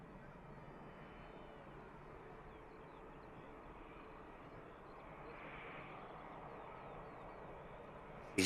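An EasyJet Airbus A319 lands at Manchester Airport, a faint, distant jet roar held steady with a slight swell near the end.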